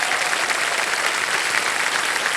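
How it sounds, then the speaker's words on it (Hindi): A studio audience on the Hindi quiz show Kaun Banega Crorepati claps steadily, a dense, even wash of applause that holds at the same level throughout. "तालियां इनके लिए बज जाएगा फिर से।"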